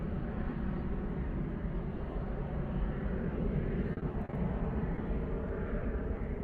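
A KLM Embraer 175 jet climbs steeply out of Bristol Airport after takeoff, a steady broad roar of engine noise holding loud and unbroken throughout with no voices.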